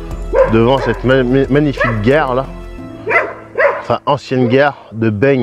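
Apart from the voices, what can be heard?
dog barking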